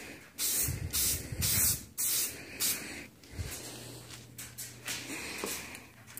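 Car headlight lens being spray coated: several loud, close hissing bursts of aerosol spray separated by short pauses, with a faint low hum underneath in the later part.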